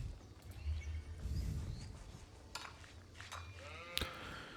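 Sheep bleat a few times in Age of Empires IV over a low rumbling game background, with a sharp click near the end.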